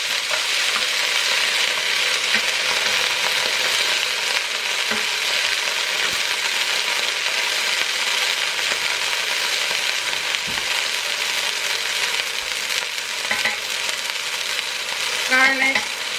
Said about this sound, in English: this is hot, so I'm going to add in onions